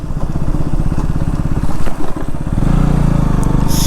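A KTM Duke 390 motorcycle engine rumbles loud and close on a night ride through Kolkata, its pulsing throb rising in pitch and intensity as the rider accelerates partway through.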